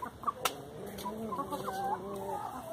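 Several chickens clucking and squawking close by in a Brazilian farmyard, being fed vegetable scraps, with a few sharper calls standing out near the start.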